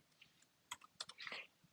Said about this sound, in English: To forgive my very poor typing